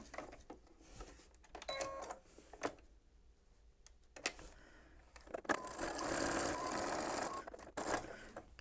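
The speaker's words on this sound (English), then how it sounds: "I'm just going to turn right sides together and sew a 1/4 inch seam right along the bottom edge" A sewing machine stitches a quarter-inch seam along a fabric edge, near and fairly quiet, in short rattling bursts of stitching with pauses and handling between, ending in a longer steady run.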